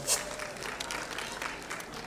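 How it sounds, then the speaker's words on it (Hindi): Applause rises from the crowd at the Dada Saheb Phalke Academy Awards red carpet, a steady wash of clapping held at moderate distance, with a host's voice talking over it. "जोरदार तालियां"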